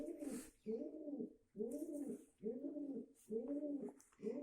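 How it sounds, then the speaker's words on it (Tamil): A small pigeon chick without its mother, giving a run of soft, close coos in a steady rhythm, about six calls with brief pauses between them. "இந்த பாருங்க, இது சின்ன குஞ்சு தாங்க, புறா குஞ்சு."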